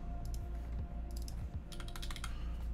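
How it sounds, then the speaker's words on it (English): Typing on the Prime_E prototype mechanical keyboard: a steady run of close, crisp keystroke clacks in uneven bursts, with a soft background hum beneath and no talking. "I'm gonna do a little bit of a typing demo on this, just so you guys can hear it"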